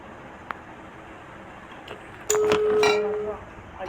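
A phone number is dialed in the horror video game Evil Nun: a single clear, sustained electronic tone sounds with faint clinks, over quiet background noise.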